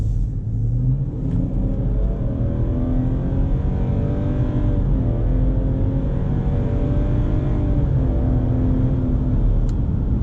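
A Subaru Outback 3.6R accelerating hard from 0 to 75, heard from inside as a loud, steady engine roar that climbs in pitch through successive gears, with no talking.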